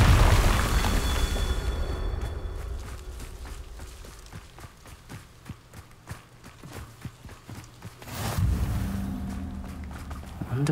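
Confringo fire spell in Hogwarts Legacy, a loud booming blast at the start and another heavy burst near the end, with rapid clopping footsteps between them.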